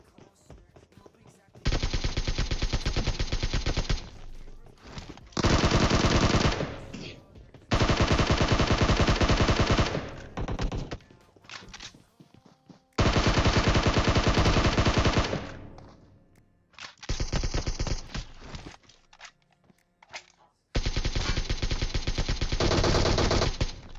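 Long bursts of automatic pre-fire in PUBG Mobile, loud and close, firing in sustained streams of several seconds separated by short pauses.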